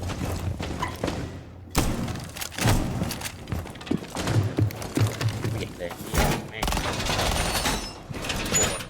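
Gunfire in an online shooter video game: repeated sharp shots and bursts, some rapid automatic strings, with thumps in between, moderately loud under a male player's excited talk.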